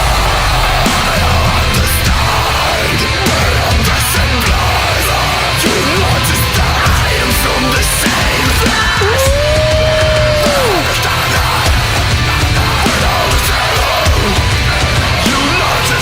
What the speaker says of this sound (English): He's doing like a call and response with the scream right here.